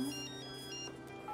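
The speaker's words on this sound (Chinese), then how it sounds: "接个电话。" A mobile phone ringtone plays steadily in an office, a repeating electronic melody heard faintly throughout at moderate distance, with no talk over it.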